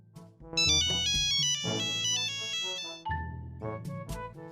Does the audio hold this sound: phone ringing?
yes